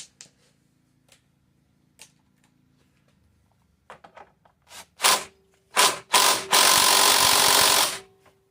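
A bolt on a Toro Recycler lawn mower is tightened with a 1/2 inch tool: sparse clicks and taps, then a few sharp ratcheting bursts, then a sustained loud buzzing run of about a second and a half.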